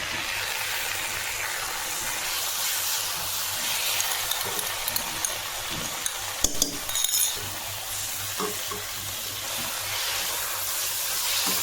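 Fried onions with freshly added tomatoes and ginger cook in a pan for okra sabzi with a steady hissing sizzle, while occasional clinks and stirring knocks from a utensil stand out midway.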